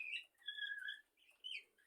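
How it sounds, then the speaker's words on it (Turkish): A few faint, high chirping calls from a bird, brief and irregular, heard at a distance in a quiet setting. "Kuşun sesi var."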